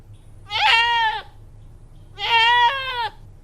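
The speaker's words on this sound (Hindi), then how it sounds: "ये लीजिए, ये आपका बकरा है।" Two loud, drawn-out goat bleats, each about three-quarters of a second long with a wavering pitch, come close and clear over a faint low hum. The goat is a sacrificial animal in an animated Eid al-Adha cartoon.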